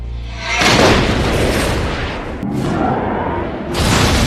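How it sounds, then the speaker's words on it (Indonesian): A car explodes in a loud, roaring blast that surges and rumbles for several seconds, dips briefly, then swells again into a harsh burst. "mobil Frank tiba-tiba meledak"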